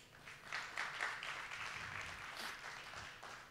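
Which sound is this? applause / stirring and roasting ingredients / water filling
applause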